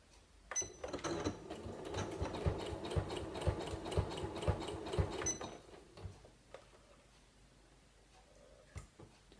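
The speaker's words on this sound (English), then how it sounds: "I'm going to sew that all the way around." A home sewing machine runs a zigzag stitch around the edge of a small fabric coaster, giving a close, steady mechanical whir with rapid ticking that lasts about five seconds before stopping, followed by faint handling noises.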